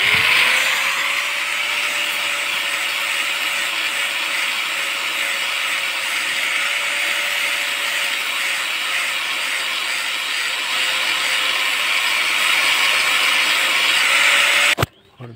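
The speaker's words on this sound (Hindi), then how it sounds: "ये 120 नंबर का पॉलिशिंग पेपर है, इसे हम लोग ज़रा इस भाले को हल्का से ग्राइंडिंग कर रहे, ताकि ये चमकता रहे" Steady abrasive rubbing as 120-grit polishing paper works along a metal spear blade, a continuous droning grind with a faint tonal whine running for the whole stretch before cutting off abruptly at the end.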